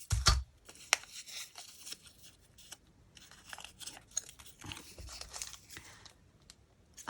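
Scissors cutting a paper index card, a close, quiet series of small snips and crisp paper crinkles with brief gaps, no voices.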